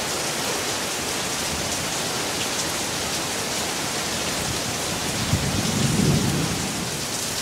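Heavy rain pouring in a garden during a thunderstorm, water running straight off a house roof without gutters, a dense steady roar with a low rumble of thunder building near the end.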